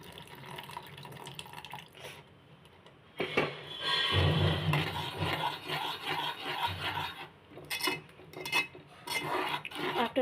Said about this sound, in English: now I'm going to give it a very good mix